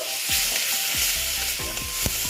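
Bitter gourd and potato pieces frying with tomato and ginger paste in a pan, a soft continuous sizzle with repeated scraping stirs of a spatula close by.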